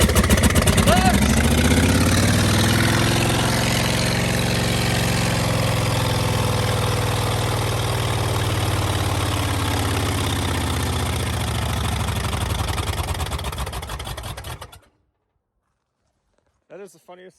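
An engine running with no oil chugs loudly and roughly at close range, its pitch sagging and wavering before it abruptly cuts out; a few faint sounds follow the silence.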